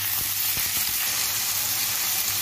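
Chicken mince and onions fry in a pan and are stirred, giving a steady loud sizzle with a few soft scraping knocks of the spoon; no one speaks.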